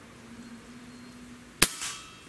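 A Benjamin Akela PCP bullpup air rifle shot, a single sharp crack as the pellet hits a glass bottle's cap, followed by a brief metallic ring fading out over quiet hum.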